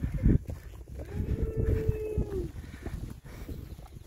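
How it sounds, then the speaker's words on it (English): Heifers on farmland along the Appalachian Trail give one long sustained moo in the middle, nearby and clear, over outdoor rustling and background noise. "They're pretty heifers."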